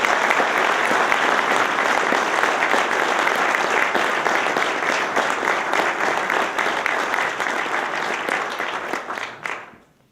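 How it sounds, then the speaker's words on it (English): An audience gives a sustained round of applause at an awards event honoring the Providence Journal, dense, steady clapping that runs loud throughout and fades out at the very end. "let's give a round of applause to the Providence Journal and to Ed."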